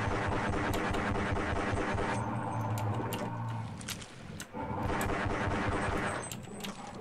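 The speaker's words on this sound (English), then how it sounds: "Only thing I can fire is my regular pistol." Repeated pistol shots fired underwater in Half-Life: Opposing Force, dense muffled gunfire bursts layered over a thick rumbling underwater ambience, with a brief dip partway through before the firing resumes.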